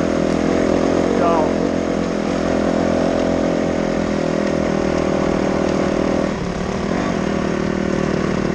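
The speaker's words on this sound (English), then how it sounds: "Riding on a WR 450" A Yamaha WR 450 dirt bike engine runs steadily and loudly close by throughout, its drone shifting briefly in pitch near the end as the rider works along a single-track trail.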